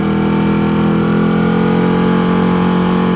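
A Ducati 1299 Panigale S motorcycle engine revs steadily and loudly up close, a constant droning roar with strong low harmonics that holds throughout with no talk.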